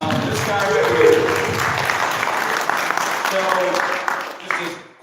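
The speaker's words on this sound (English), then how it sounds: "And John Pajak, I want to give him a round of applause." Audience applause at a 2019 GIE Expo panel, a broad wash of clapping with a voice speaking over it that fades out near the end.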